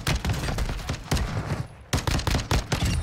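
Call of Duty Warzone gunfire: heavy, loud bursts of shots in clustered volleys with brief gaps between them, near and punchy, with no talking.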